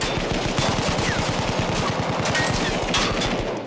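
Rapid, evenly spaced automatic fire aimed at a player on a turret in Battlefield 1, a loud, steady machine-gun rattle that runs continuously with no talk over it.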